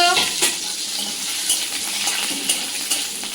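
Whole spices frying in hot oil with a steady bright sizzle, punctuated by light clinks of a utensil stirring against the pan.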